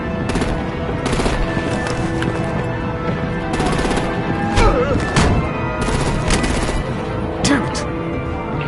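Rapid machine-gun bursts and heavier booming blasts from a Batman: The Enemy Within battle scene, loud and close over a constant noisy backdrop, with repeated volleys throughout.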